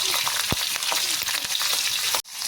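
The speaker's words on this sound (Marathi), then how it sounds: "लगेच या तडक्यावर आपल्याला मिरच्या असं टाकून द्यायचा" Sliced chillies dropped into a hot oil tempering in a kadhai, hissing with a loud, dense, steady sizzle and a few sharp pops and crackles, alone with no talk, cut off abruptly near the end.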